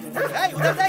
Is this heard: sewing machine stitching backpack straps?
no